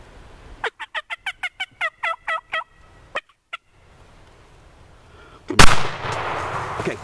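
While turkeys are being hunted, a run of rapid gobbling calls rings out, then falls quiet until a single loud, close gunshot cracks and trails off in a rumbling echo.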